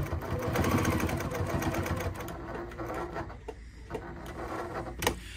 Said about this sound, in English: Let's go back to where I stopped sewing and start that again.